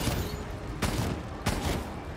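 Gunfire in a video game: two sharp, loud shots about half a second apart cut through a steady background din.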